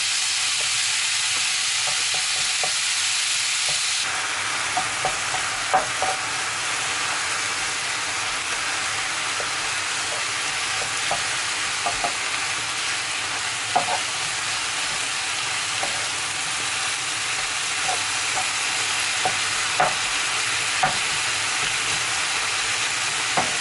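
Minced beef browns in a frying pan with a steady sizzling hiss throughout, close and fairly loud, dotted with small pops and the occasional scrape of stirring.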